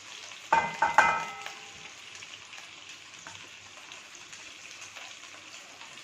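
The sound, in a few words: mutton gola kababs frying in pan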